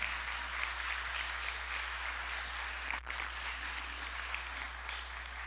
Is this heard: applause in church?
yes